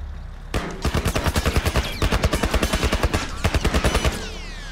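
Rapid bursts of gunfire in The Last of Us, in the Financial District, fire in quick rhythmic volleys: a short pause, then a long sustained string of shots and a final shorter burst, loud and close with no talk.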